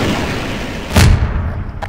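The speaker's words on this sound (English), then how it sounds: "Sending missile. Missile launch." A missile launch explosion in a video game set in a dinosaur park: a single dull boom lands midway through, standing out over a steady rumbling background before fading.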